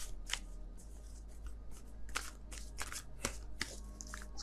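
Tarot cards being shuffled by hand, a series of soft, irregular riffling and slapping bursts close to the microphone, fairly quiet overall.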